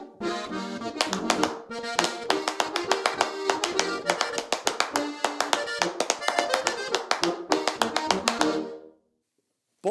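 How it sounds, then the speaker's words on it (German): Boschen, the Styrian folk custom of clapping with stiff palms struck short and hard, rings out as loud, bright, rapid claps in a driving rhythm. The patterns shift and the claps stop abruptly near the end. "Boschen heißt, rhythmisch in die Hände klatschen. Dabei werden die Handflächen steif gehalten und kurz und hart aneinander geschlagen, sodass ein heller und lauter Klang entsteht."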